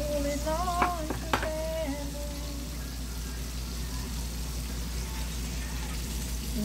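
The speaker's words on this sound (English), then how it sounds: "This is the second batch of the chicken frying" Chicken wings frying in garlic and butter sauce: a steady sizzle runs throughout at moderate level, with a couple of brief voice-like tones rising over it near the start.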